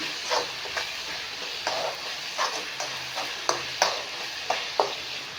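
Ingredients for chitranna gojju fry in a pan with a steady close sizzle, punctuated by regular light scrapes and taps of a spoon stirring against the metal.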